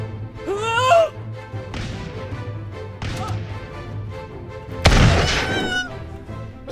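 Cannon fire in Totally Accurate Battle Simulator: a single heavy boom stands out midway through a busy battle mix of whooshes and clatter, with no clear talk over it.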